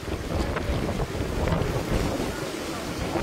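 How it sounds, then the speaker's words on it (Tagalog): Super Typhoon Uwan lashes the Bicol Region with roaring wind and flooding, a loud, continuous broadband rush like surf and gusts hitting the microphone that never lets up. "dahil sa tindi ng pagbaha dulot ng pananalasa ng Super Typhoon Uwan."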